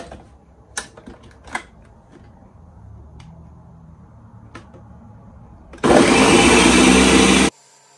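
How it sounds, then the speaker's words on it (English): A blender whirs loudly for about two seconds while blending ginger and water, starting and stopping abruptly after a few quieter handling clicks and taps. "Now I'm going to add the ginger to the blender."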